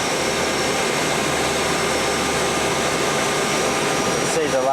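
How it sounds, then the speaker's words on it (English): Airliner taxiing down the runway near the Grand Canyon, a steady loud broadband engine roar with a constant whine that persists throughout, with a brief shift in tone near the end. "Here we go, we're just beginning to taxi off down the runway now."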